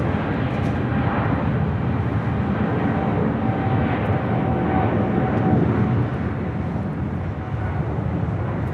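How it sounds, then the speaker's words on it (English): A Philippine Airlines Boeing 777-300ER departing Los Angeles International Airport for Manila, a loud, steady, broad jet roar that holds without a break. "This is Philippine Airlines Flight 113 departing to Manila on a 777-300ER"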